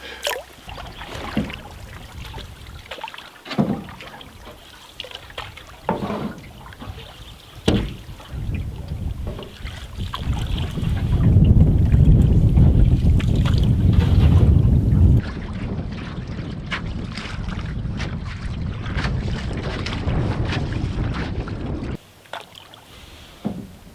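Gusting wind buffets a canoe on a Swedish lake, a steady broadband rush and microphone rumble that swells into a loud sustained roar midway, with faint water sloshing and knocks against the hull.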